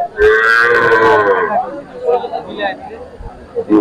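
A cow lets out a loud, close, drawn-out moo, followed by people talking in the background of a busy outdoor cattle market in Faridpur, Bangladesh.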